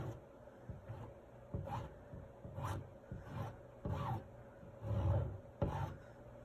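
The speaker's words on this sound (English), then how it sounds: "I'm gonna take my mini squeegee" A mini squeegee scrapes chalk paste across a suitcase, giving repeated soft rasping strokes at a steady rhythm, each drag rising and fading over a low background hum.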